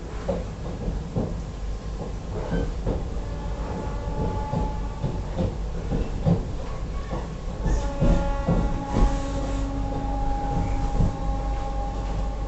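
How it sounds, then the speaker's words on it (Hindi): The Lucknow Mail passes a Vande Bharat train in a crossing, heard from inside the coach as a continuous rumble with a steady clickety-clack of wheels over rail joints and occasional clanks, all at moderate loudness. "दोस्तों लखनऊ मेल का अराइवल हो रहा है, क्रॉसिंग हो रही लखनऊ मेल की।"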